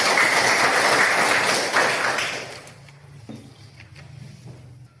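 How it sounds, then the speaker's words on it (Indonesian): Children in a classroom clap together, a dense burst of close applause that fades out after about two seconds, leaving scattered taps, desk knocks and faint room noise. "Tepuk tangan untuk kita semua."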